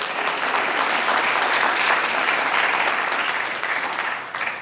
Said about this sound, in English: How about a little round of applause for Jack?